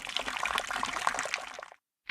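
Water trickles and splashes steadily for nearly two seconds, a close bubbling dribble that stops abruptly, followed by a short final splash.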